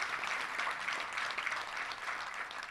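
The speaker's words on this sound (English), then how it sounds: "Let's give all our volunteers a big round of applause." Audience applause for volunteers at a touchdown club gathering, a steady dense wash of clapping filling the whole stretch at moderate level, with no talk over it.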